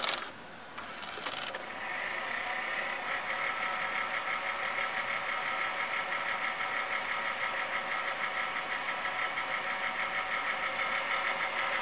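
An NEC N966U VHS VCR rewinding a tape gives a steady mechanical whir with a fast, fine rhythmic ticking, sustained and fairly loud throughout, after a short clunk of the transport engaging at the start.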